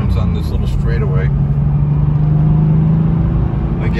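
A 1997 Porsche 993 C4S drives along a short straightaway with a steady low engine drone and road rumble throughout, held at an even level with little change in pitch.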